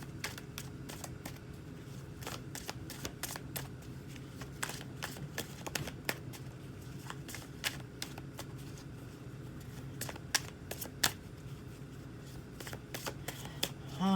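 Tarot cards shuffled by hand, a long run of quick, crisp riffling flicks in steady bursts, close and clear with no voice over it.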